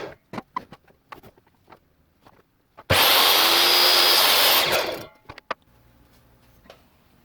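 A power saw cuts small wood pieces for a wood-turning feature ring in a workshop, with one loud two-second burst of cutting noise between quiet handling knocks and clicks.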